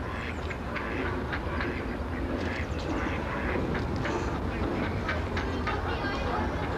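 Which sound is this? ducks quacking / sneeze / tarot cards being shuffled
ducks quacking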